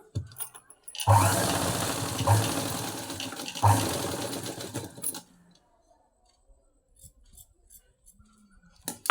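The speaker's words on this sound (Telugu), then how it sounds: "మీడియంగా అయితే నేను స్టిచ్ చేస్తూ ఉన్నాను" Sewing machine stitching a design onto a blouse, running in three short bursts of rapid mechanical whirring with pauses between, then falling quiet apart from faint handling clicks.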